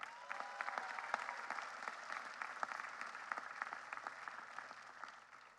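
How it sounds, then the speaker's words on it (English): Graduates applauding themselves at a 2025 undergraduate commencement ceremony, a broad, sustained crowd clapping heard at a moderate distance, fairly quiet overall and tapering off toward the end. "So please give yourselves a round of applause."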